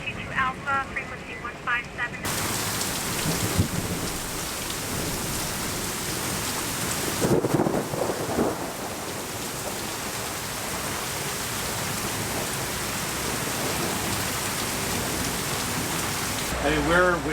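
Steady heavy rain hisses throughout on a sailboat, with low rumbles of thunder from strikes within an eighth of a mile rolling in partway through; a voice speaks briefly at the start.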